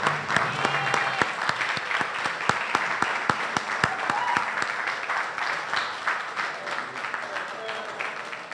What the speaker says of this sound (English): give our leader, our friend, our freedom fighter, Reverend Jesse Lewis Jackson, a round of applause as he comes to speak to us